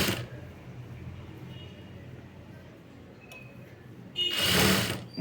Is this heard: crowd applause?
no